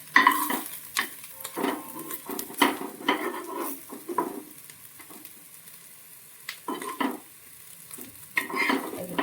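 Egg-soaked bread fries in a little oil in a pan, with soft sizzling under irregular scraping and stirring clatter from a utensil, close-up and varying in loudness.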